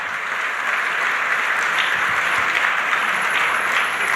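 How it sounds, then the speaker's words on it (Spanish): Steady applause from a church congregation during a Spanish-language sermon, a dense, even patter of clapping that fills the whole stretch without a break and carries no speech. "Le puede dar un aplauso al Señor por eso."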